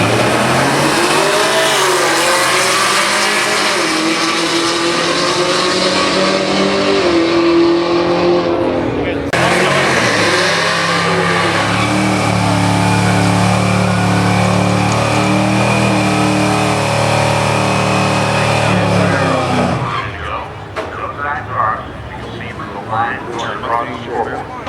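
Mustang GT/EcoBoost, Camaro SS/ZL1 and Challenger Hellcat/Demon V8 cars drag race with loud revving and accelerating roars. The engine pitch climbs in two long pulls and then drops off, with commentary running over the noise.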